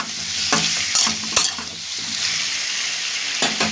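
A fish head fries with turmeric and ginger paste in a pan, hissing steadily up close while a spatula scrapes and clacks against the metal in a few quick strokes.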